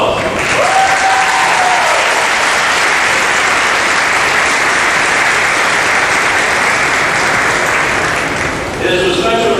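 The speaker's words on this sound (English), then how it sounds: "please give your parents a round of applause" A large high school graduation crowd gives the parents a long, loud, sustained round of applause, a continuous dense roar of clapping that fades briefly near the end.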